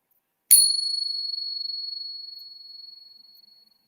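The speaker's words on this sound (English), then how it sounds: "Let me know what you think about the chimes." A single bright chime is struck once and rings out, its high clear tone slowly decaying over about three seconds in otherwise silent surroundings.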